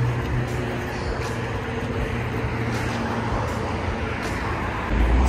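Freeway traffic rumbles continuously from below an overlook near Santa Monica, a dense, steady wash of passing cars with a few louder swells, no voices.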